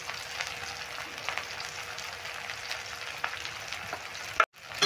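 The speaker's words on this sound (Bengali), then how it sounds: "এবার লঙ্কা পেঁয়াজটা ভালো করে নেড়ে একটু হালকা লালচে করে ভেজে নেব।" Chilies and onion fry in hot oil with a steady crackling sizzle, punctuated by occasional soft scrapes of stirring, before a sudden brief drop near the end.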